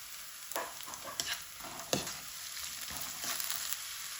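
Faint, steady sizzle of onions and ginger garlic paste frying in a pan for a liver masala, with soft scraping stirs now and then.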